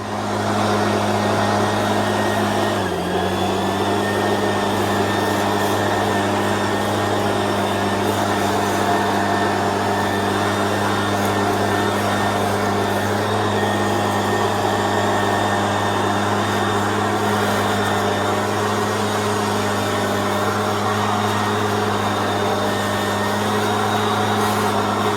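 A handheld leaf blower clears a front yard driveway, a loud, steady engine-like roar that runs continuously and close by with almost no change in level.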